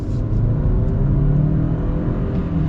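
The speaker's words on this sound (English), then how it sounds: "we'll kind of get our full-blown acceleration here at the Santa Cruz" A 2022 Hyundai Santa Cruz with a turbocharged engine accelerates hard, its low engine drone climbing steadily in pitch as it revs up, heard loud from inside the cabin with no talking.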